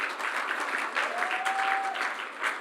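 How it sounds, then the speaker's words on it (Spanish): Church congregation applauding steadily throughout, a dense, even wash of clapping with a faint sustained tone briefly running underneath. "Se le va a dar ese aplauso al fiel, denle un aplauso más fuerte."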